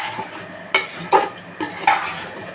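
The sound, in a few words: stirring vegetable pulao with mint and coriander in pot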